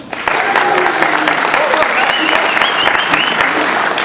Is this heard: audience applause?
yes